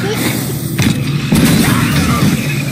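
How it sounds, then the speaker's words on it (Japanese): A muffled explosion goes off behind a door in the video game Resident Evil Village, with heavy low thumps around a steady rumbling game soundscape. "扉の向こうで爆発したんだけど"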